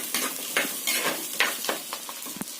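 Fennel and other ingredients frying in a pan for a white kuruma, a loud close sizzle punctuated by a quick rhythm of spoon scrapes and stirring strokes against the pan.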